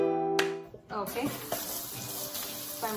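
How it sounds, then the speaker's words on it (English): Running tap water splashes into a kitchen sink as it is washed, a steady broadband wash with a few sharper splashes and clatters, preceded by a brief tonal sound at the start. "so I'm washing the sink"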